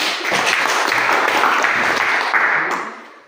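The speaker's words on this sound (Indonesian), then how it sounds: "kita berikan tepuk tangan untuk kita semua" Teachers at a senior high school session applaud together, producing a loud, dense burst of clapping that holds steady and then fades out toward the end.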